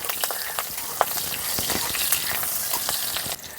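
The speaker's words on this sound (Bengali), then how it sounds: "কাঁচা লঙ্কাটা ভাজা ভাজা হয়ে গেছে" Green chillies crackle in hot oil for a Bengali drumstick-flower fry, a steady close sizzle dotted with sharp pops and spits, with no voices.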